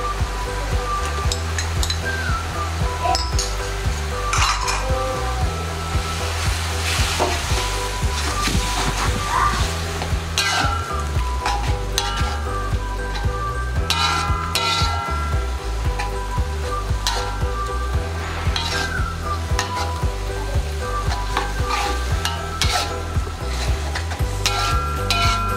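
Pounded green chili for Padang sambal ijo fries in a pan, a loud continuous sizzle with frequent scraping and clattering as it is stirred, close up throughout.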